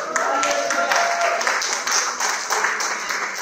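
Scattered, fairly light applause from an audience at a church women's ministry gathering, steady for a few seconds with a faint voice underneath.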